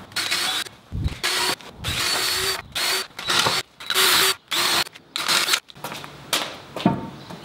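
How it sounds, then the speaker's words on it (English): Cordless drill pre-drilling holes in timber for a workshop door, running in a rapid series of short, loud bursts separated by brief gaps, close by with no talking. "So the first job is to pre-drill all of the holes in the timber."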